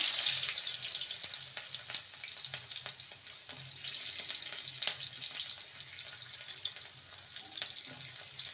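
Cubed onion tossed into hot oil in a pan after frying brinjal for chili brinjal, a continuous bright sizzle and hiss close up, with light scraping and stirring and no talk.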